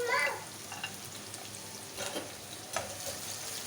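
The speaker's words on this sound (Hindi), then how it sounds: "सबसे पहले हम शिमला मिर्च ऐड करेंगे और इसको 2 मिनट के लिए सौते करेंगे" Capsicum sautéing and being stirred in a pan for chicken fried rice: a soft, steady sizzle with a few brief scraping stirs, fairly quiet and close, with no talking over it.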